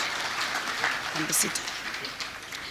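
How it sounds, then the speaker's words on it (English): Applause from the audience at a devolution conference opening session, a moderate clapping wash that runs under a speaking voice at the podium and tapers off near the end. "please give them another round of applause"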